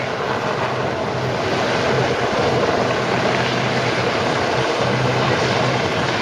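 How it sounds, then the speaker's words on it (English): A Mark 4 Sea King helicopter hovers at an air show, a loud, steady, broadband rotor and engine roar with continuous rushing wash and no speech. "the venerable Mark 4 Sea King hovers in a rock-steady hover about 150 feet"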